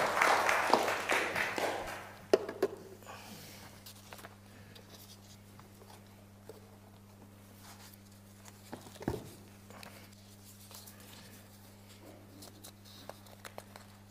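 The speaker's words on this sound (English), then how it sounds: "Give him a round of applause." A church congregation claps in a short burst of applause that fades within about two seconds, leaving a quiet room with faint scattered rustles.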